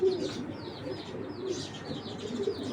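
Belgian racing pigeon in a loft, soft repeated cooing with faint chirps from other birds nearby, steady and fairly quiet throughout.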